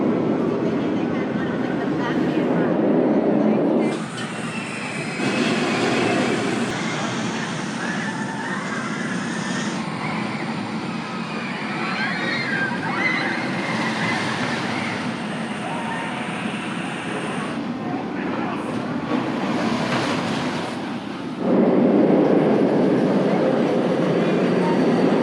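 The Super Dooper Looper roller coaster at Hersheypark thunders along its track in the dark, a loud rumbling roar with rising and falling surges as the train runs through the circuit, with voices mixed in.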